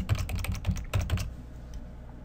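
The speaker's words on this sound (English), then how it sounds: "And to show message, we need to type MsgBox." Quick clattering keystrokes on a computer keyboard, two short bursts of close typing, then quiet.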